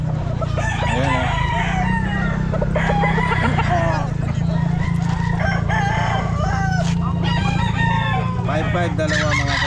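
Chickens and roosters at an outdoor pet market crow and cluck over one another in a dense, continuous chorus, with a low steady rumble of crowd and market noise underneath.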